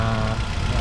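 A Hyundai Accent car engine idles with a steady, close, low rumbling hum, loud and unbroken, with no voices over it.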